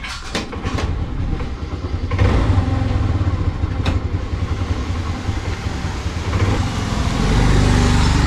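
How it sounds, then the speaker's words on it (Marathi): A motorbike rides through a Konkani village, its engine droning steadily close by and growing louder toward the end, with no talk. "आता बाईक घेऊन जातोय मी."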